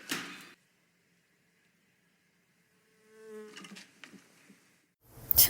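A housefly buzzes in a room, a thin, wavering drone rising and fading over about a second, between short bursts of other noise.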